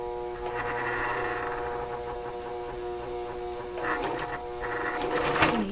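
A sewing machine stitches dimensional fabric pieces with a steady, close mechanical whirr and a fast needle rhythm that briefly swells and eases.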